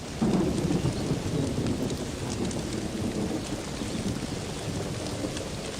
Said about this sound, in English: The downpour does little damage to the earthen mounds.